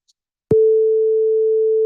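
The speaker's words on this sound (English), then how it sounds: "what happens if we go ahead and we change its frequency to 440 hertz?" A pure 440 Hz sine wave tone sounds loud and perfectly steady, starting abruptly after a click and holding without change until the end.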